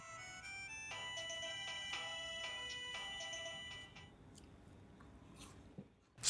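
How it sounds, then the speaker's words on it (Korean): A repeating electronic ring with bright tonal chimes pulses steadily for about four seconds, then fades, leaving faint quiet rustling and a sharp noise at the end. "계속해서 울리는 벨소리"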